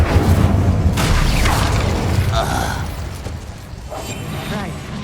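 A fire spell is cast in Hogwarts Legacy with a loud, rumbling magical burst and whooshing flare, layered with game mechanisms and a brief creaking clatter, heavy low-end throughout and fading slightly toward the end.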